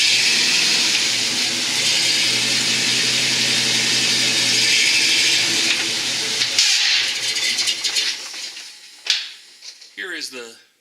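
A car's drivetrain runs steadily with its original driveshaft still fitted, a sustained engine and mechanical drone with hiss that cuts out partway through, followed by scattered clunks and handling noises.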